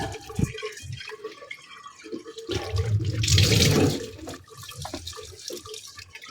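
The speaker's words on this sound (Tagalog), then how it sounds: "lagyan natin ng sabaw" Broth is poured into a cooking pot of tilapia, a close splashing liquid pour that swells for a couple of seconds in the middle, surrounded by smaller clinks and kitchen handling sounds.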